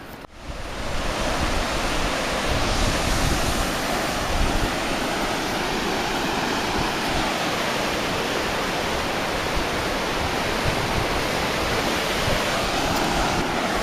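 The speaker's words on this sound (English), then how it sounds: "Pretty sight here. Waterfall." A waterfall in Nepal roars as a dense, unbroken rush of water, loud and close, steady for the whole stretch with no voices.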